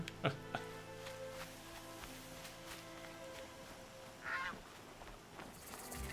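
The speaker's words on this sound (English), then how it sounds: "We need to kill some geese for last upgrade on our Tear Blaster pouch." Geese honk in the Horizon Zero Dawn game world, a few faint calls scattered over a quiet ambient background, with one sharp honk near the start and another a few seconds later.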